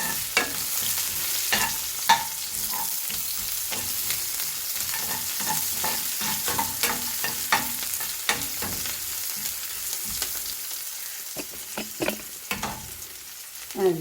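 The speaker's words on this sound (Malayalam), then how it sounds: "വെളുത്തുള്ളി ഇഞ്ചിയൊക്കെ കുറേശ്ശെ ഒന്ന് ഇറക്കി കൊടുക്കാം" Finely chopped ginger and garlic fry in a pan for shrimp gravy, with a constant close sizzle and frequent scraping stirs of a spoon, with no voices.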